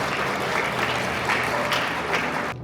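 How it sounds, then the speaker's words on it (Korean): Wedding guests applaud steadily as the bride tears up before the groom's parents, a dense, even wash of clapping throughout that cuts off just before the end. "여러분들 이럴 때 박수로 위로를 같이 해주시면 감사하겠습니다"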